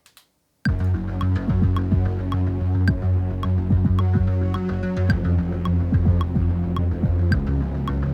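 A remix section with just bass and kick drum: a steady, throbbing low bass line under a regular pulsing beat with sharp ticks, loud and continuous after a brief silent start.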